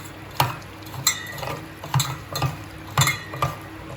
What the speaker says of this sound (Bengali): ভাজা মশলাটা আমি যতক্ষণ না এটা থেকে একটা সুন্দর গন্ধ বেরোয় ততক্ষণ পর্যন্ত একটু ভেজে নেব